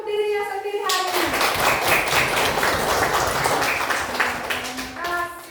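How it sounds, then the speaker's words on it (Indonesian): Audience applause fills the room for about four seconds, dense, steady clapping that swells quickly and holds at a constant level before fading, with a voice speaking briefly before and after. "tepuk tangan dulu untuk dirinya sendiri hari ini"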